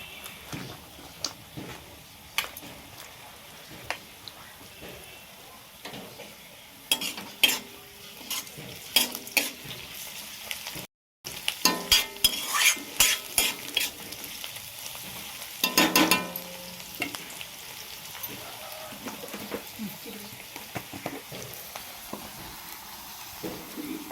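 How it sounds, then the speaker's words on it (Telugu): Brinjal, pea and tomato curry being stirred in a pan, with scraping spoon strokes and soft clatter over a steady low sizzle, the stirring growing busier toward the middle; no talk. "ఒకసారి ఇలా కలిదిప్పుకోవాలండి మంచిగా ఎందుకంటే ఉప్పు అంతా ముక్కలకు పట్టాలి కదండి"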